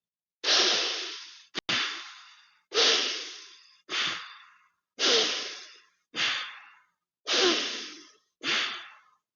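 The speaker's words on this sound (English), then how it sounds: "So this is also a warrior's type breath, a very intentional type breath." Eight slow, deliberate breaths drawn in and pushed out through the nose with the mouth closed, strong and airy, each a distinct swell that fades off. Inhales and exhales alternate with short silent pauses, close to the microphone.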